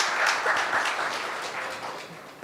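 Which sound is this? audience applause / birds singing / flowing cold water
audience applause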